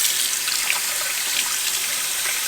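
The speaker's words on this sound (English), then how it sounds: "I'm going to rinse this so we can kind of see what we're looking at a little better." Stained jeans rinsed under a running tap: a steady, close hiss of flowing water splashing onto fabric, continuous and without talk.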